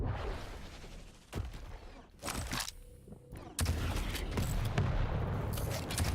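Rapid weapon fire in a Quake Champions world championship EU qualifier duel, a dense burst of shots and booms with a brief lull before a loud, sustained barrage resumes.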